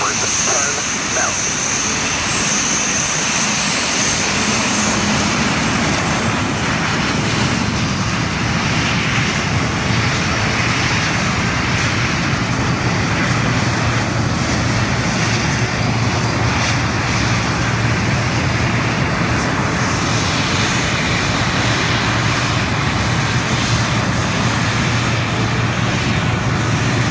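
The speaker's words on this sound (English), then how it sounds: "What a beautiful aircraft the Tutor is." Snowbirds Canadair Tutor jets roar past at an air show, a loud, sustained engine wash that swells and fades, with a voice talking over it.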